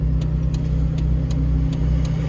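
A 1.5-litre Daewoo Lanos engine hums steadily from inside the car as it drives and turns around, a low continuous drone with faint regular ticking over it.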